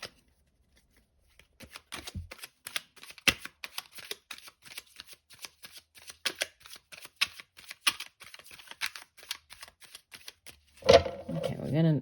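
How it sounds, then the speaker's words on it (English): Tarot and oracle cards being shuffled, with a steady run of crisp, close riffling snaps and flutters. A voice comes in briefly at the very end. "we're going to shuffle, and then we'll go through and clarify the cards as needed"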